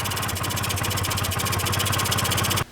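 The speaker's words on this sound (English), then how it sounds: "So we got the Elite to fire, but it's obviously not running right." A Honda Elite scooter's small engine runs rough just after starting, a loud, close, uneven buzzing putter that cuts off abruptly near the end.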